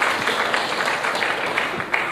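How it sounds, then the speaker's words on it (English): Audience applause at the Air Cargo India 2016 conference, an even, moderately loud patter of many people clapping in a hall for the whole stretch, with no voices heard over it. "Let's have a round of applause, please"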